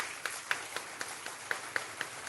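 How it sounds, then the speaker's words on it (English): A small group of radio-show listeners or studio crew claps in an even rhythm, about eight sharp, fairly close claps spaced roughly a quarter second apart, fading after two seconds with no talking. "Give him an applause."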